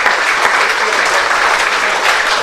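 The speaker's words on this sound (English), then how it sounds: "The voluminous applause" Dense, loud crowd applause fills a cricket ground during a one-day cup match, a continuous wash of clapping throughout with no pauses.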